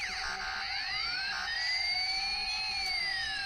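A toy traffic police bike gives off a continuous electronic siren, its bright tones sweeping up and down and overlapping steadily at close range, with no voices.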